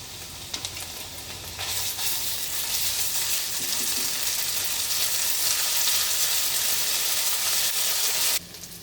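Chopped onions, fried until reddish, sizzle loudly in oil in a pan after ginger-garlic paste is added. The frying hiss is steady and dense with some stirring, then drops away abruptly near the end.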